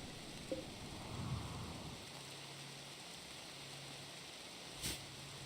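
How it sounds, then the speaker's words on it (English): Steady rain in a video game, a soft continuous hiss held at a low level throughout, with a faint low hum partway through and a short sharp tick near the end. "A lot of rain though."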